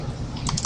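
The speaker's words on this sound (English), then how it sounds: "and I'm going to type in" Computer keyboard typing, a short burst of several quick, clicky keystrokes near the end of a brief moment, close and moderately loud.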